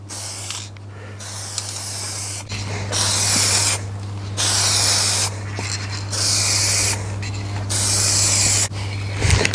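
A spray can hisses tint onto Corsa D rear lights in repeated bursts of about a second each, separated by short gaps, close and loud over a steady low hum.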